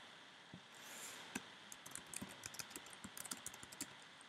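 Typing a title on a computer keyboard, a quiet run of light key clicks in an irregular rhythm, close and faint against a soft hiss.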